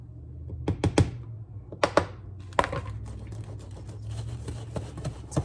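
Pans of pumpkin bread batter shaken and knocked on a kitchen counter, giving a few sharp close thumps and rattles near the start, then a steady low rumble of handling noise.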